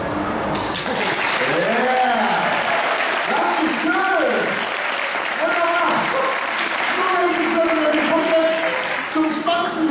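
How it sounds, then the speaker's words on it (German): An audience at a fire-breathing torch show claps loudly and continuously, while voices call out and talk over the applause throughout. "Auch hier wieder, wenn es klappt, klatscht kurz, klatscht,"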